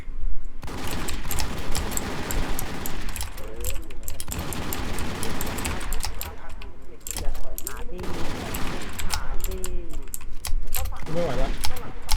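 Dense gunfire in the online survival shooter WarZ, bursts of rapid shots with heavy weapons and explosions filling the map, loud and continuous with someone talking over the shooting throughout.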